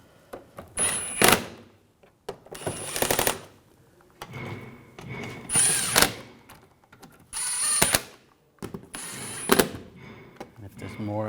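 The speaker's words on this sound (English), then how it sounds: "Now we're going to tighten those down" Bolts on the transmission pan of a 2009–2010 BMW 535i xDrive are driven tight by a power ratchet or impact tool, giving five loud, close, rattling bursts in an even rhythm with short pauses between them.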